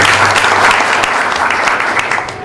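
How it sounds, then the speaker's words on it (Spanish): A crowd at a political party event in Higüey applauds loudly, a dense sustained wash of clapping that starts strong and tapers slightly near the end. "un aplauso para ellos también"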